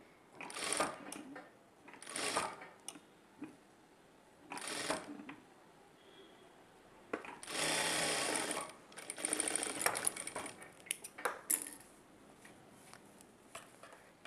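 A sewing machine stitches the side piece of a blouse onto the front, running in several short bursts of whirring with pauses between them, close and fairly quiet, and no voices.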